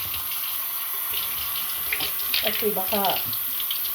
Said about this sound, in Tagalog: Kaso mahina yung tubig namin, pawala-wala